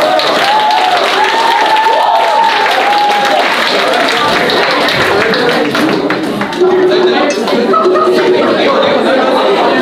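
A crowd claps and cheers for a performer at a Mid-Autumn Moon Festival talent show during an international college dinner, with lively chatter and voices mixed in throughout the loud, busy applause.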